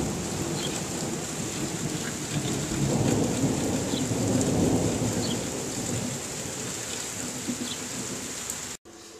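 A summer thunderstorm in Milwaukee, Wisconsin: steady heavy rain hisses throughout while deep thunder rolls and swells in the middle, then fades, ending in a brief cutoff.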